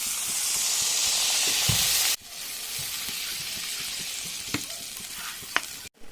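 Rohu fish curry gravy with eggplant bubbles and sizzles in a pan, a loud, steady close hiss that cuts off abruptly partway through, followed by quieter bubbling and a few light clinks, no talking.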